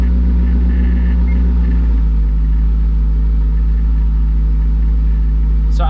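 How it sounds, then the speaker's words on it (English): A tuned LS2 V8 engine idles steadily around 700 RPM, producing a loud, continuous low rumble with an even, unbroken drone throughout. "So I have tuned it to idle around 600 RPM. No, sorry, 700 RPM."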